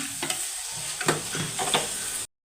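Thinly sliced onions sizzling in a pan, a steady soft frying hiss with a few scraping stirs, fairly faint and close, ending abruptly.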